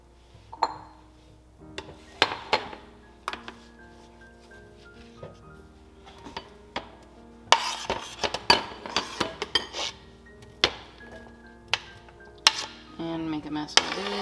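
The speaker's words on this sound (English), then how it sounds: "so I'm going to go ahead and put this into a bowl really quick" Chopped onions scraped and tipped into a bowl bring sharp clinks and clatters of utensils against dishes, irregular and close, with quieter gaps between louder knocks.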